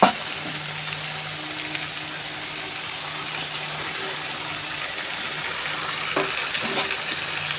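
Chicken pieces frying in hot spiced oil in a home kitchen, a steady close hiss and sizzle that runs without a break under a low hum.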